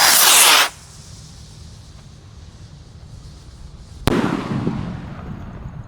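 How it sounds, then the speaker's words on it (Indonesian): Firework rocket launching outdoors: a loud hissing whoosh burst at the start that cuts off abruptly, then quiet background, followed by a sharp crack and a lingering fizzing rumble. "Roket sudah menyala, siap meluncur."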